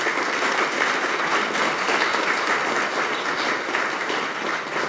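A crowd at a campus facility announcement gives steady, dense applause that holds evenly at a fairly loud level for several seconds.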